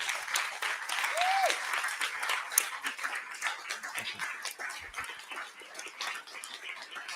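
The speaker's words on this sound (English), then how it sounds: "give a massive, rousing, future-changing round of applause" Audience applause for a panel of speakers at a Silicon Brighton sustainability event, a steady patter of clapping that holds for several seconds at moderate level, with a brief whistle-like tone early on.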